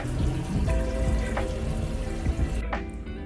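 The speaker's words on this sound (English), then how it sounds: "It's so wonderful that I can take a hot shower here." Hot shower water runs steadily in a small shower cubicle at the end of a Trans-Siberian railway carriage, a dense close hiss with faint clanks and splashes throughout.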